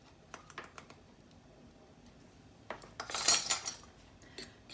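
Spelt flour and baking soda being stirred in a bowl, with light scraping and clinks of a utensil against the bowl, scattered at first and then a brief louder burst of mixing near the end.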